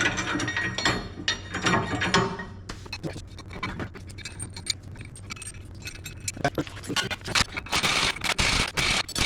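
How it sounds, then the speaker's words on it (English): An open-end wrench ratchets and clinks as lift kit U-bolts are run down on a 2005 Nissan Titan, giving steady close metallic clicking and jangling with occasional sharper clinks throughout. "We used an open-end wrench to be able to get those run down"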